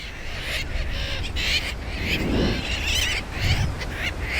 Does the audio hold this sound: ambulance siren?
no